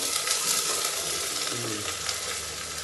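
A leafy vegetable curry with soaked lentils fries in oil, giving a loud, dense and continuous sizzle with faint stirring noises and no one talking.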